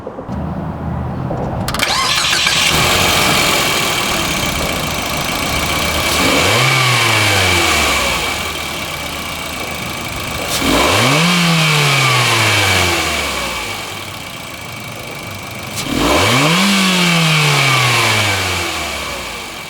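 A Mitsubishi Xpander Cross 1.5L engine starts, settles into an idle, then revs three times, each rev rising and falling back to idle, loud and close.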